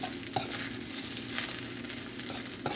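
Rice fries in a little canola oil in a pan, giving a continuous close sizzle broken by a few scraping stirs of a utensil, with no speech.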